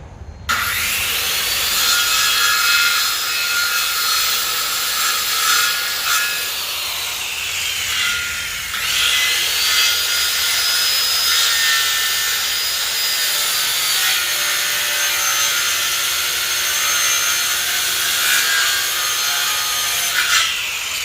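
A jigsaw cutting wood during dinette carpentry, a loud, continuous buzzing and rasping cut with a whining tone that shifts slightly in pitch and runs nearly unbroken for about twenty seconds, with no talk.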